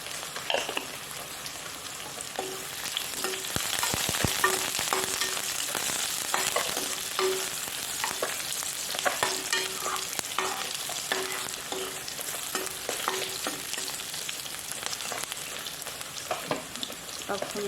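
Panch phoron whole spices frying and sizzling in hot oil for a Karbi fish and kosu thari dish, a steady loud crackle with stirring clatter throughout and no voices.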